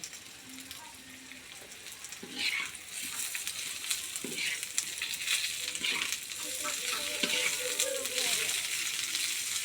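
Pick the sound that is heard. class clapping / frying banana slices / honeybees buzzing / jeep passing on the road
frying banana slices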